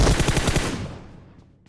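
Rapid automatic gunfire in the PUBG Mobile video game, a quick burst of loud shots in fast rhythm for about half a second, then a decaying echoing tail with faint distant pops.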